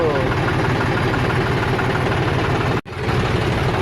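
A tractor engine idles with a steady, low rumble, cutting out for a split second near the end before resuming at the same level.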